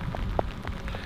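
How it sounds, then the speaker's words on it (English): Rain falls steadily during an e-bike ride, a continuous close patter with a few louder drops over a low rushing background. "Don't mind the rain, to be honest."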